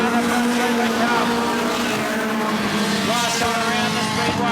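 National 4's race cars roar past on a speedway front straight in a Queensland title A-Main at Carina Speedway, a loud continuous engine drone with an announcer talking over it.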